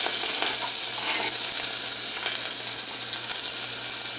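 Garlic, onion and chile fry in a hot pan, giving a dense, even sizzle that hisses close and loud without a pause.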